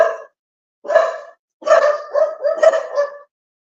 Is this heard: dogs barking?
yes